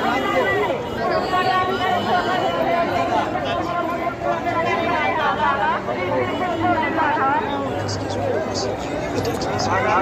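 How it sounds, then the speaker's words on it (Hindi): A large night crowd at Arel Ghat on the Sangam during the Mahakumbh, with dense overlapping chatter and voices from many people, loud and continuous throughout. "आप ये रात का नज़ारा वहाँ का देख सकते हैं, काफ़ी भीड़ है।"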